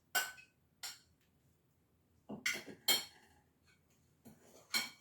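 Spoon knocking and scraping against a bowl while mixing wet and dry apple pumpkin muffin batter, in several short separate bursts of clinks and scrapes with quiet gaps between them.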